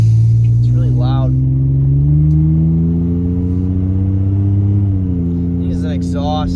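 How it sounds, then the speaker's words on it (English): A loud old Ford Ranger pickup truck that needs an exhaust revs up. Its engine tone rises and holds, dips around a shift, then continues. Brief voices are heard near the start and end. "The old Ford Ranger's been doing pretty good. It's really loud."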